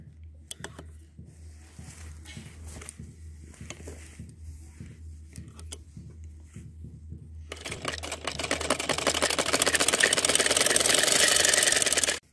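A sewing machine runs in a steady, close mechanical whir while stitching a straight seam along the button placket of a men's kurta neckline. It is softer and intermittent at first, then louder and continuous toward the end before stopping abruptly.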